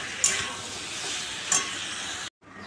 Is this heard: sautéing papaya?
yes